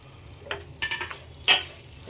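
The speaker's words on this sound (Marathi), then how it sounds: "आता आपण ह्यात जी आपण कापलेली केळी आहे ती टाकत आहोत" Raw banana pieces drop into hot oil seasoned with turmeric and are stirred. A few short bursts of sizzling and scraping rise over a low, quiet background hiss.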